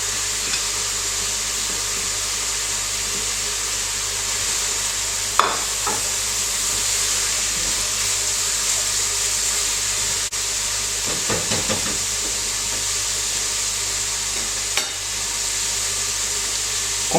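Zucchini and carrot cooking in a pan with annatto, parsley and chives, a steady loud sizzle and hiss throughout with a few brief scraping stirs of a utensil.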